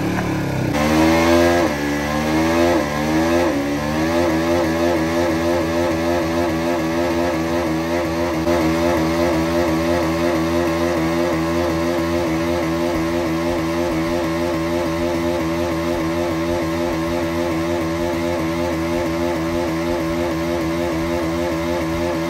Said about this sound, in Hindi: यहाँ पे ना अब मैं बर्नआउट मारने वाला हूँ